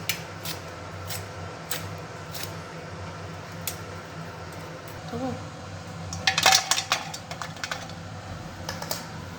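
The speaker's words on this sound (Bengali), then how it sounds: "দিদি এখন এই সিম কাটবে।" A knife cuts flat beans on a board in a home kitchen, making a series of light, crisp ticks and taps, with a brief cluster of small clinks partway through over a low background hum.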